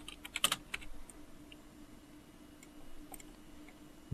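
Fingers typing on a computer keyboard, a quick burst of soft, close key clicks at first, then a few sparse taps over quiet room tone.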